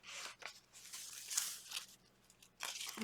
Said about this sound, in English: A little bit of crunchy tape.